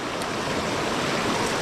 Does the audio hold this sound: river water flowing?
yes